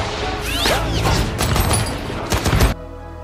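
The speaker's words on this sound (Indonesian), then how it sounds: "Sementara, Norma dan Gordo memberi tembakan perlindungan." Battle gunfire from the war film Fury crackles in dense, overlapping bursts of shots and booms for under three seconds before cutting off abruptly to near silence.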